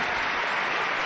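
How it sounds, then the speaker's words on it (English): Brief, dense applause from a large tennis crowd at the 2000 Washington tournament, Corretja versus Agassi, loud and sustained with no pauses. "Listen to this crowd."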